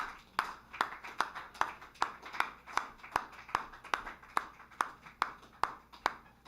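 A lone pair of hands claps steadily at an open mic, about two claps per second in an even rhythm, fairly close and moderately loud in a quiet room.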